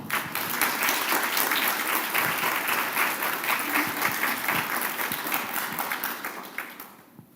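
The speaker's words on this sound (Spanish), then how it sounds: "recibamos con un fortísimo aplauso" Steady applause from a conference audience in a lecture hall, dense clapping that holds for about six seconds before fading out, with no speech over it.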